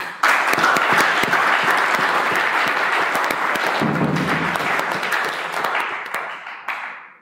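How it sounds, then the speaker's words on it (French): Loud, sustained applause fills a football club's general assembly hall, dense clapping that starts abruptly, holds steady with a brief low rumble partway through, then thins out and stops near the end. "Veuillez vraiment applaudir pour ça."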